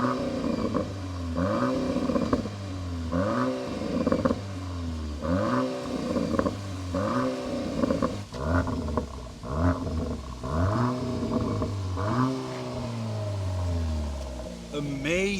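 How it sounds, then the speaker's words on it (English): Revving 2025 Audi S3 with an Akrapovic performance exhaust in Dynamic Plus mode, heard outdoors up close: repeated sharp rises and falls in engine pitch, one after another, loud and steady throughout, with no talking. "They have the performance exhaust here on the S3 by Krapovic, and they've done an amazing job."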